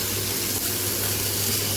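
Steady, close hiss of liver sautéing in a hot pan, with faint scraping from stirring, no voices.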